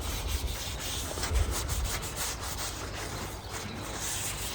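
Camellia oil wiped by hand onto a ceramic bonsai pot, making a close, continuous soft rubbing and swishing with small irregular strokes and no voices.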